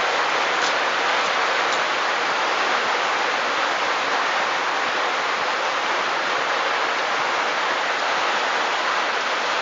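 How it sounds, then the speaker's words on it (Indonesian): Heavy rain pouring down around a house, a loud dense continuous hiss of downpour with no pauses and no voices, close and steady throughout. "soalnya hujannya di rumah saya lagi deras sekali nih"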